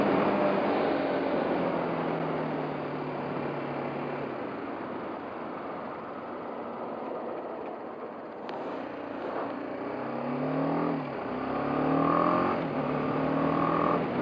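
A BMW G 310 GS motorcycle engine drones under steady wind noise, then revs up and down several times in rising and falling bursts toward the end.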